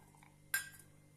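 Garlic cloves drop into a steel mixer jar that already holds green chillies, giving one sharp clink with a brief ringing tail in a quiet kitchen.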